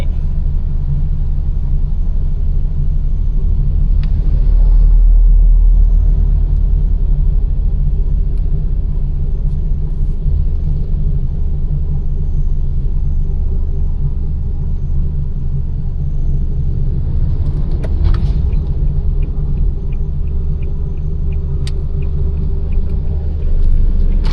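A vehicle stuck behind a lorry on the road gives a loud, constant low road rumble and engine drone throughout, with brief faint rattles and no talking.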